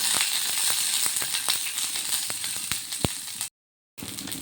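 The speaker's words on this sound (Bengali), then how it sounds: "তেলে দিয়ে দিলাম এক চামচ সর্ষে দুটো কাঁচা লঙ্কা আর দিয়ে দিলাম কারি পাতা এবার এগুলো একটু ভালো করে ভেজে নেব" Mustard seeds, green chillies and curry leaves frying in hot oil, a continuous close sizzle with scattered sharp pops and crackles, briefly cutting out near the end.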